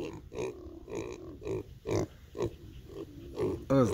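Piglets grunt in a series of short, soft, rhythmic grunts close by, with a couple of louder squealy oinks near the end and people talking quietly alongside.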